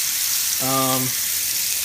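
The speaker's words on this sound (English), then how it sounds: "Hear that sizzle is exactly what you want" A steak sizzles loudly in a very hot, smoking pan: a continuous bright hiss, with a brief tonal whine rising above it for about half a second.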